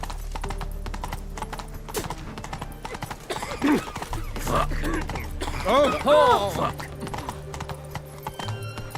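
Roach, Geralt's horse in The Witcher 3, clip-clops along at a walking pace with steady hoofbeats, then gives a short whinny partway through while voices talk over the scene.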